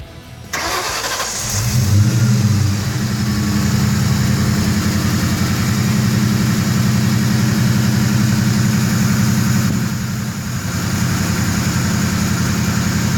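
Car engine starting by remote start and then idling steadily after an oil filter relocation kit install, a loud close engine hum that settles into an even idle.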